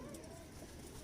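Pigeon cooing softly, low murmuring calls that are faint and continuous over about a second, with no other clear sounds.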